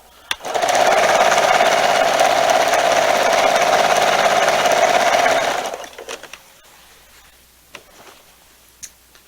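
A sewing machine runs fast and steady for about five seconds, stitching binding onto a quilt, then stops, leaving a few faint clicks and handling taps.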